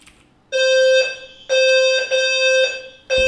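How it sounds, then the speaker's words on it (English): Building fire alarm going off in loud, repeated electronic tones, three long bursts with short breaks and a fourth starting at the end, heard close and alone with no talk. "the fire alarm in my building went off"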